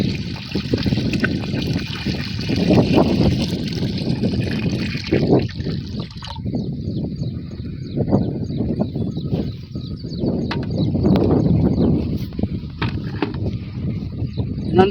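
Three litres of liquid farm tonic are poured into a tank of water to mix a crop drench, a continuous gurgling, splashing pour with a slight break midway, close and fairly loud outdoors.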